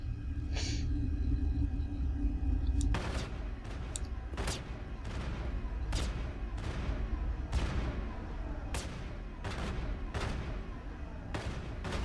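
Enemy gunfire in the video game Mass Effect: a steady string of sharp, irregularly spaced shots cracks over a low rumbling background for several seconds.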